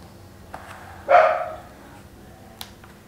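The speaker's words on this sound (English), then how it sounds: "My dog keeps barking over there." A pet dog gives a single bark from across a room, moderately distant, with a few faint clicks and quiet background noise around it.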